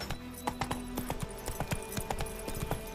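Roach the horse's hooves clip-clop in a steady walking rhythm in The Witcher 3, close and clear over a low ambient bed with no talking.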